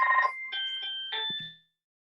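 A landline house phone rings indoors in a couple of clear electronic trilling bursts lasting about a second and a half, then stops, with no talking.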